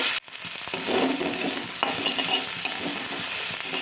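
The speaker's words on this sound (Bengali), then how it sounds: "চিংড়ি মাছের যে মাথাগুলো আমি ধুয়ে পরিষ্কার করে রেখেছিলাম ওইগুলো ভেজে নেব" Cleaned prawn heads drop into hot oil and fry, a loud, bubbling sizzle that jumps up at the start and then holds steady with light stirring scrapes.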